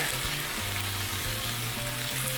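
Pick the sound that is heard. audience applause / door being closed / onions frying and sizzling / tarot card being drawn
onions frying and sizzling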